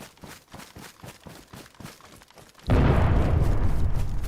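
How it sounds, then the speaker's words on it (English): An explosion goes off in the video game DayZ, heard as a sudden loud blast that roars on for over a second. Rhythmic footsteps of a running character come just before it. "Fuck me, that was an explosion"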